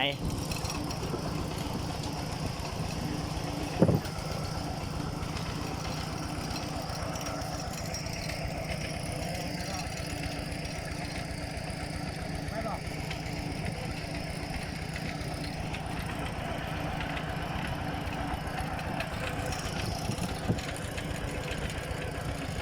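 A steady, low tractor engine rumbles at idle throughout, with a faint mechanical knock and a brief clank partway through.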